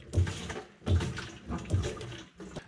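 Water is pumped and gurgles out of a flooded fuel tank on a Wave Runner personal watercraft, giving three strong surging pulses about every 0.8 seconds, close and fairly loud, with no talking.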